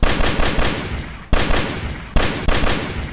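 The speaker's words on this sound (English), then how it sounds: "Shoot that guy dead because I can." Dense bursts of video game gunfire on an oil refinery map, rapid overlapping shots forming a loud continuous fusillade with a few sharp restarts, close and with no talking.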